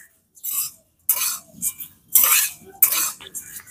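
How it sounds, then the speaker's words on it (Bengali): Flattened rice (chire) stirred and fried in a pan, heard as four close, scraping strokes of a spoon against the metal with short pauses between them and no talking. "নাড়াচাড়া করা কিন্তু বন্ধ করলে চলবে না, একদম কন্টিনিউয়াসলি নাড়াচাড়া করেই যেতে হবে, তা না হলে কিন্তু চিড়েগুলো নিচেই বসে যেতে পারে।"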